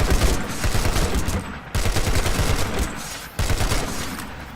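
Sustained automatic fire from a TR assault rifle in a video game, loud and close, in three long bursts separated by brief pauses.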